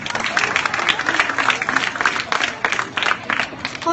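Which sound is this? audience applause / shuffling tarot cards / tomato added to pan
audience applause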